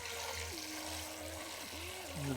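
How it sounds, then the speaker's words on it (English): Leeks rinsed in a bowl of cold water, giving a continuous close splashing and trickling wash with a low running-water rumble throughout, with no talking. "I'm just going to give these a really good rinse"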